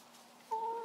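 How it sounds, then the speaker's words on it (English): A chicken in a backyard coop gives a brief, close cluck after a quiet stretch, standing out against soft ambient noise. "but that was just a chicken"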